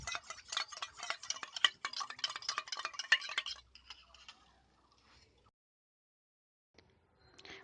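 Eggs beaten by hand in a bowl with a utensil for an omelette, a fast, steady run of light clinking taps for several seconds, then fading into quieter scraping and near silence.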